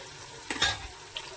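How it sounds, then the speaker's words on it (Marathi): Spices sauté in a pan for a homemade dum biryani, with a soft, steady sizzle and a couple of quick stirring scrapes from a utensil, all close and fairly quiet. "इकडे आपले मसाले छान पैकी परतत आहेत"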